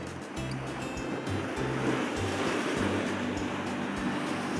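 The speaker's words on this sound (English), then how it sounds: "That's giving me that nice little roll, gentle roll cascade of the waves breaking over the rocks in front of me." Waves roll in a gentle cascade over rocks near the shore, a steady, dense wash of surf that pulses as each swell breaks, loud and close throughout.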